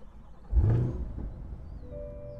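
A 2021 Chevrolet C8 Corvette Convertible V8 fires up close by with a sharp cranking burst, then drops into a steady rumbling idle that carries on after the initial flare.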